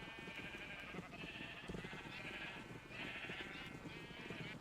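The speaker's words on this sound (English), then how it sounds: "This is still a lot of sheep for a very small pen." Numerous sheep crowded into a very small pen on a Minecraft server, bleating in overlapping bursts that repeat steadily and stay fairly close, with no talking over them.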